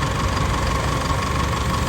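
A freshly overhauled car engine idles steadily at close range, a constant low rumble with a faint mechanical hum and no voices.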